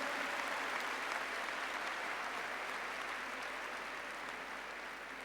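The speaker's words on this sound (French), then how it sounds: "Nous pouvons les applaudir pour leur souhaiter la bonne fête." A church congregation applauds parishioners of Christ Roi de l'Univers in Diouroup at their patronal feast: dense, sustained clapping from a large crowd that holds steady and fades slightly toward the end, with no talk over it.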